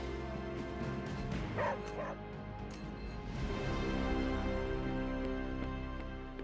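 A dog in the Marvel's Midnight Suns video game gives a few soft barks and yips mixed with whimpers, heard over a steady game music and ambience bed.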